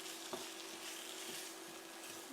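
A tinned potato and tomato mixture stirred in a pan, making a faint, steady sizzle with soft scraping, quiet and close, with a steady low hum underneath and no voices.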